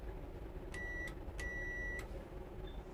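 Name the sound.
train ready to start signal, two rings on bell or buzzer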